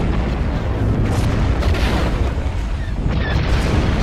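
Explosions rumble and boom continuously as a space station comes under attack in the Star Wars: Forces of Corruption video game, a dense, loud barrage with no gaps.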